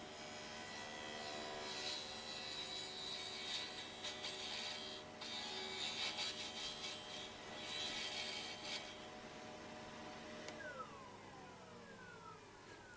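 A wood lathe hollows out a faceplate-mounted bowl, a steady, dense scraping and rasping hum that runs continuously and fairly loud, with no talk.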